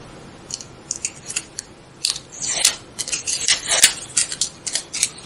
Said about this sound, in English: I have cut out a little heart out of a contact paper, and now I'm going to peel it off.